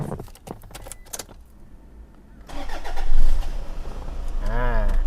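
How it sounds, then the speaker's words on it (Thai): Keys jingle, then the engine of a used Toyota Fortuner cranks and starts, settling into a steady idle rumble. "เดี๋ยวผมสตาร์ทเครื่องให้ดูนะให้ฟังเสียงเครื่องยนต์กัน"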